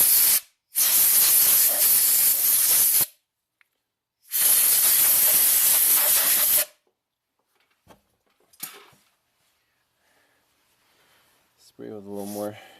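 Two long, loud bursts of compressed air blast dust and dirt out of a Jeep Wrangler electrical connector, each lasting about two and a half seconds with a pause between, followed by quieter handling noises and a brief voice at the end.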